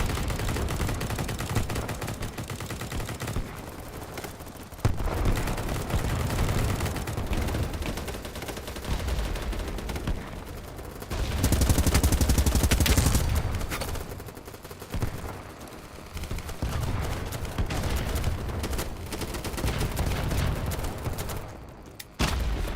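Dense bursts of M4 rifle fire in a first-person shooter game, loud and sustained across the clip with brief pauses and a heavier booming stretch near the middle, no voices over it.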